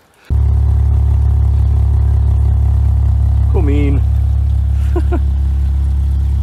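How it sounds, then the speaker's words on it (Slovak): An old Volvo car engine starts and idles steadily, running cold and smoking, with a loud, constant low rumble from start to finish; someone speaks briefly partway through. "zahrajem motor"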